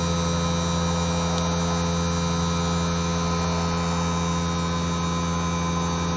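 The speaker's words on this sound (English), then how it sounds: "You can hear the defrost cycle now. It's defrosting the frost that was on the back" Heat pump defrosting at -30C, giving a steady, loud electrical hum with a strong low drone and broadband hiss, constant throughout with no talk.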